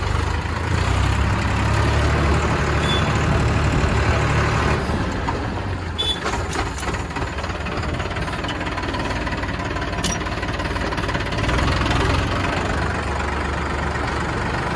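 A tractor engine runs steadily and loudly throughout, a continuous low chugging drone with some clanking, close by, with no talk over it.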